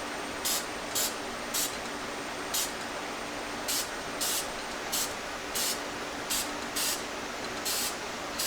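Lacquer spray on a woodturning piece, about a dozen short, evenly spaced hissing bursts over a steady low hum, each spray brief and close.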